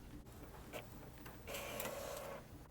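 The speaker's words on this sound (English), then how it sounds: "I've got my printer on here. Okay, and then I'll print it off." A printer runs sublimation transfer paper through, a steady mechanical whir with brief clicks early on and a louder sustained feed-motor drone from midway, close and alone without voices.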